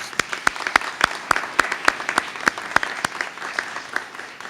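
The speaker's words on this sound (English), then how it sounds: "Let's give them a round of applause" Scattered, fairly sparse clapping from a small outdoor audience at an Arbor Day ceremony, distinct individual claps in a steady patter that holds at moderate loudness for several seconds.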